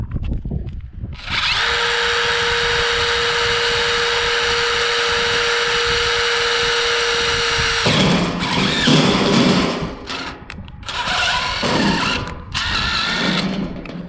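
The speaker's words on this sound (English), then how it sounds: "Okay, drill tap combo. Probably one of the best tools I've used making a hole." A drill-tap combination bit bores through a steel bearing ring, giving a loud steady whine for several seconds, then rougher bursts of grinding cutting noise with short pauses.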